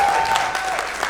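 A live comedy show audience breaks into brief, full applause, a dense wash of clapping that fades quickly over about a second.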